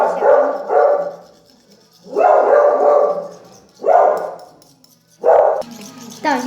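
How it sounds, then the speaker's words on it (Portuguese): A dog barks in several loud, close bursts of rapid barking separated by short pauses, with household sounds in between and no speech over the barks. "A gente deu um pauzinho porque o Scott tava latindo"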